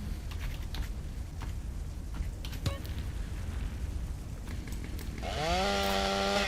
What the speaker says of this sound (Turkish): Evet motorlu testere.